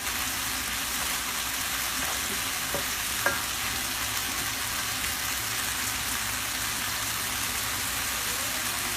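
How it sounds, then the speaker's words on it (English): Bacon frying and crisping in a pan gives a dense, even sizzle that stays close and steady throughout, with an occasional faint pop and no talking. "I want the bacon to crisp up"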